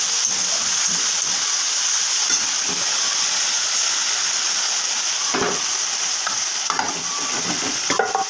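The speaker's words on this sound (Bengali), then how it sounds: "মশলা কষানো একটু অপেক্ষা করবো" Spices sizzle and fry in hot oil in a pan for a fish curry, a steady loud hiss with a few brief stirring scrapes, no talking.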